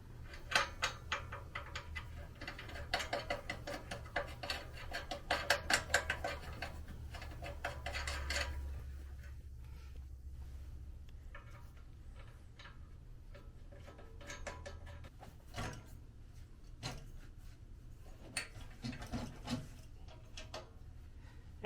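Bolts being removed and thumb screws fitted on a simulator seat frame, quiet scattered metallic clicks, taps and short ratcheting bursts with pauses, close and faint, busier at the start.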